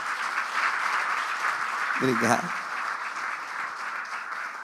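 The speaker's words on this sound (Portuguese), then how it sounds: "Você pode aplaudir Jesus?" A church congregation claps during a worship service, a steady wash of applause filling the room, with someone briefly speaking over it partway through.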